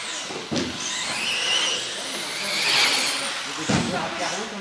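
Small electric RC car whines past on an indoor carpet track during a club session, its motor rising and falling as it passes near, with voices in the background.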